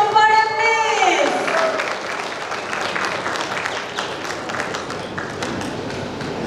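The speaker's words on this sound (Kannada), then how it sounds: "ಉಪೇಂದ್ರ ಸರ್ ಅವರಿಗೆ ಒಂದು ದೊಡ್ಡ ಚಪ್ಪಾಳೆ ಪ್ಲೀಸ್" Audience applause and cheering for actor-director Upendra at the Salaga pre-release event, a loud crowd clapping continuously, with a voice or musical tone trailing off at the start.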